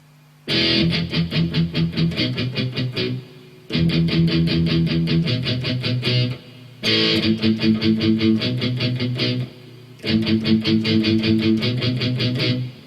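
Palm-muted electric guitar playing a song slowly, four chugging phrases separated by short pauses, loud and close.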